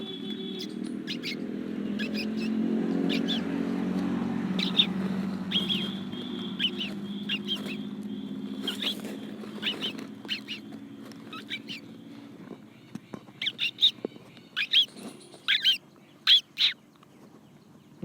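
A man imitates a sparrow with his voice: bright, high chirps repeated over a low background rumble, growing sharper and more frequent toward the end.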